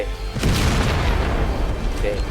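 An explosive blast fired in a John Wick style video game, a deep booming burst followed by a sustained rumbling roar of debris and noise that fills the short scene.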